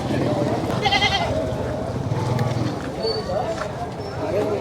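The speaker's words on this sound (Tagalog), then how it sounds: "Ang daming kambing nito ito ah." Goats bleat briefly amid a busy crowd at a livestock market in Moises Padilla, Negros, with people talking nearby and animal shuffling in the background.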